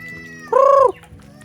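A single loud, nasal honk from a goose, lasting under half a second, with quiet background noise before and after.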